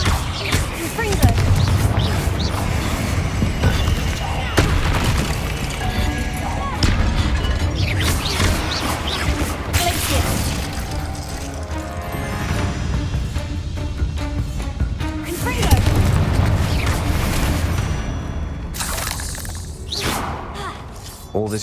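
Confringo fire-spell blasts in Hogwarts Legacy, with repeated booming explosions, crashes and whooshes spread across the stretch, mixed with in-game voices and speech.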